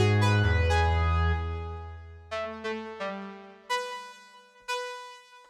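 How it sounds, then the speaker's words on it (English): Classic analog-style synth lead patch built in FL Studio 20 with a delay effect: a sustained low note gives way to a run of bright, buzzy staccato notes whose repeats trail off behind them, heard alone. "So we did a first delay here at 216, which sounds like this."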